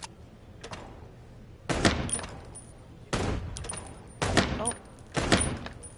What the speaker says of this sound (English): Aim your gun at enemies and avoid shooting the hostages.